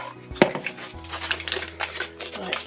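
A knife cuts through room-temperature butter for a Christmas cake, making a few soft taps and scrapes on a board close by, with one sharper knock early on.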